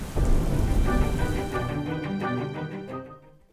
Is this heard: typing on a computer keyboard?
no